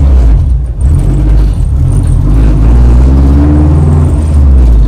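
A Honda Civic EG hatchback with a B20 DOHC engine pulls hard through second gear, its loud, steady engine drone rising in pitch, heard close up from inside the car without talk.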